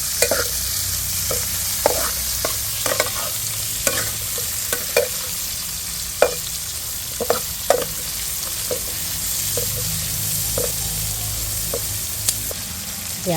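Onions sizzle steadily in hot oil with garlic while frying for sweet and sour tilapia, a constant bright hiss broken by repeated scraping stirs of a utensil against the pan, close and alone without talk.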